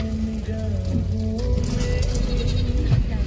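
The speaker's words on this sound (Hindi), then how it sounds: "यहाँ पे रास्ते में भाई हमें बकरियाँ जा रही है अभी चारा चरने के लिए जंगल।" Goats heading to graze in the forest crowd a mountain road in the Rohidiya valley of Garhwal, with steady bleating over constant loud rumble and background noise.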